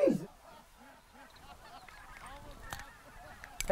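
Canada geese honk during a goose hunt in Alberta, with sharp close honks at the start and end and fainter scattered calls from the flock in between, over quiet open-air background.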